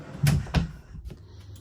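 Drawers in a pre-owned 2017 Dynamax Isata 3 24FW Class C motorhome slide and knock shut, with two firm thuds close together followed by a softer click, near and alone.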